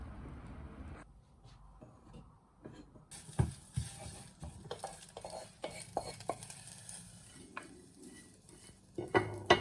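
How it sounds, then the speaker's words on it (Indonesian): Beaten egg fries in a pan while cooking a tempeh taoco dish, a hissing sizzle that rises after a quiet start, broken by the scrape and clatter of a utensil stirring against the pan. "Pertama-tama kita goreng telur kocok dulu ya."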